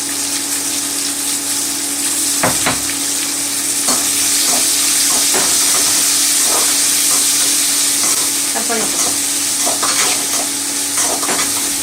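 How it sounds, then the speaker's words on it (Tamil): Onions fry in a pan with salt for a fish curry, giving a steady close sizzle throughout with scattered stirring scrapes and clicks. "வெங்காயம் வதங்கிறதுக்கு உப்பு போட்டுக்கலாம்"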